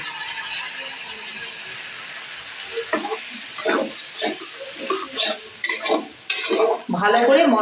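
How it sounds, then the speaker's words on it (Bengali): Spice paste for a chital fish curry sautés in a pan. Spoon scrapes and clatters against the metal come in bursts over a low sizzle, loud and close, growing busier toward the end. "মশলাটাকে আমি কষিয়ে নেব"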